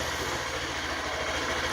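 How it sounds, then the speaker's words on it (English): A 2020 Honda Grom motorcycle idles in neutral, a steady low rumbling engine note with even pulsing, close and fairly loud, with no talking. "Show them in neutral before I start revving it."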